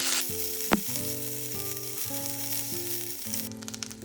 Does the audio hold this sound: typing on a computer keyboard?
no